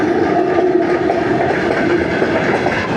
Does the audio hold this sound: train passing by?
yes